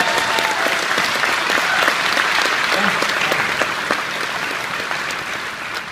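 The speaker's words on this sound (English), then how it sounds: "Everybody applaud that one." A live audience bursts into steady, dense applause, many hands clapping together at close range and holding a strong, even level before tapering slightly toward the end, with faint voices mixed in.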